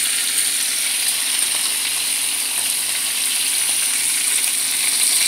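Lamb chops sizzling in a hot pan, a loud, even frying hiss that runs unbroken throughout with faint crackles and no talking.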